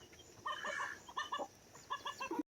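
Farm chickens cluck in short, close bursts of several quick notes separated by brief pauses, with no talking.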